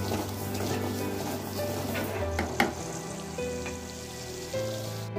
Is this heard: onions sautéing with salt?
yes